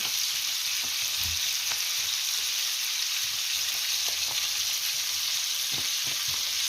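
Banosh cornmeal mixture being stirred in a pot, giving a steady close hiss like sizzling with soft scraping strokes throughout and no voices.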